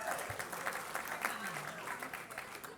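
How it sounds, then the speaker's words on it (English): Audience of Ohio State fans at a rivalry roast event applauding, a broad wash of many hands clapping at moderate distance, steady for a few seconds with a voice faintly audible underneath. "Give yourself a round of applause"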